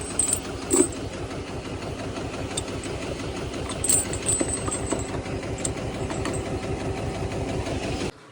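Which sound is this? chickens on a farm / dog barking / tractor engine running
tractor engine running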